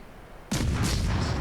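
A warship's guns open fire in a naval combat game, a single sudden loud blast that rolls into a sustained roaring rumble, with no voices over it.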